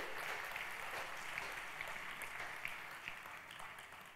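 Audience applause at an unpacking event in Jakarta, a steady, fairly faint wash of clapping that carries on evenly for the whole stretch without any voices over it.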